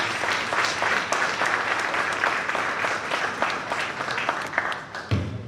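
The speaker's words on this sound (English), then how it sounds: "Can we give a round of applause?" An audience at a disability-day celebration claps steadily through a cake-cutting moment, a dense even wash of hands lasting several seconds with a brief louder clap near the end.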